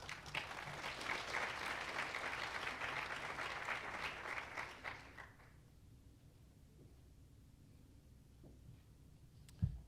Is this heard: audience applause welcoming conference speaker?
yes